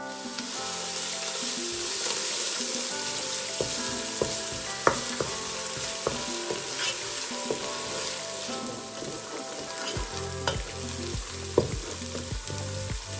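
Two chopped medium onions fry in half a cup of oil, a steady dense sizzle with occasional sharp pops and stirring clatter, close and continuous throughout without any talk.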